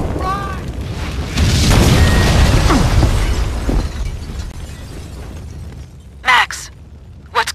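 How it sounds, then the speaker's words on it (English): A building blows up in Max Payne 2, a heavy booming explosion with crumbling, shattering debris that swells and rumbles for a few seconds, then fades before two short sharp bursts near the end. "The building's blowing up."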